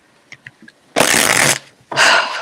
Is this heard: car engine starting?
no